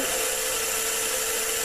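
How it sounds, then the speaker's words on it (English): A cheap Chinese power drill whines steadily at high speed while making a starting point for a larger bit. The sound is a continuous, loud, unbroken buzz with no voices. "Object here is not to drill a hole, but just to make a starting point"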